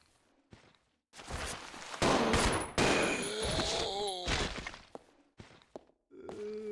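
Gunfire in Resident Evil 0, several loud sharp bursts of shots with short gaps between them, while a voice speaks between and over the reports.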